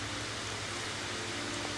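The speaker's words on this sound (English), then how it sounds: "The blessed rain has come." Steady rain falls outdoors, a dense even hiss of broadband noise with a low rumble underneath, constant and moderately loud throughout with no voices.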